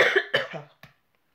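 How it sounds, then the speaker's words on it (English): A few harsh coughs in quick succession, close and loud, trailing off into a short quiet throat sound. "I've had a nasty cough these last couple of days"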